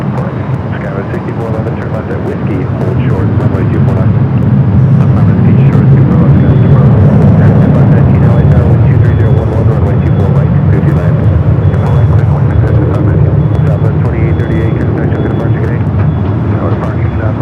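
A Southwest Boeing 737 rolls for takeoff on runway 24 left at Los Angeles airport, its engines building into a loud, steady roar heard from a distance that holds throughout, with talk over it.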